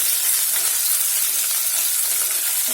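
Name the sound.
green chilies added to frying garlic, sizzling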